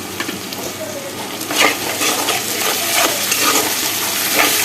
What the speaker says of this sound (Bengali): আদা রসুন কাঁচা লঙ্কার পেস্টটা দিয়ে একটু ভালোভাবে কষিয়ে নেব